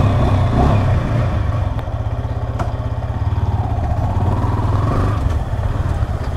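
A 2022 Yamaha R15 V4 motorcycle engine runs close and loud, settling into a steady, throbbing idle with a rapid mechanical pulse and slight clatter.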